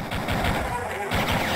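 Rapid gunfire from the video game Duke Nukem 3D plays in repeated bursts at a steady loud level, with a player's voice mixed in.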